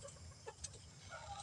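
Soft clucking from Rhode Island Red hens and a rooster nearby, a few brief calls over a quiet background hum.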